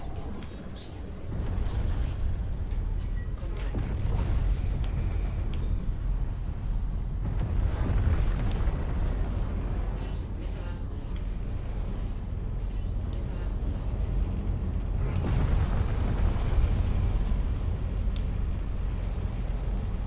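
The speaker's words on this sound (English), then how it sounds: "Wow, missiles actually hit." Missiles striking and exploding in Star Citizen, a space combat game: a sustained, heavy rumbling roar with several surging bursts over a constant low engine drone, loud and continuous throughout.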